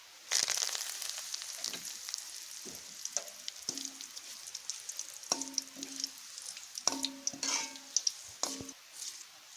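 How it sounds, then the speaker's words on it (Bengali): Oil sizzles and spits steadily with sharp crackling pops as curry leaves fry, close up, with a few clinks of stirring. "এবার ক্যারি পাত্তাগুলো ভেজে নিলাম"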